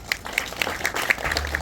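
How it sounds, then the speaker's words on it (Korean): An audience at an academic lecture hall applauds to welcome a speaker, giving a brief burst of mixed, moderately loud clapping. "큰 박수로 모시겠습니다."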